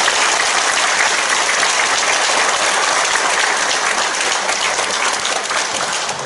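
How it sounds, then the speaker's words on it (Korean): A church congregation at an ordination service claps steadily and loudly for a gift presentation, a thick sustained wash of hands that barely varies before easing slightly at the very end. "우리 박수 보내겠습니다"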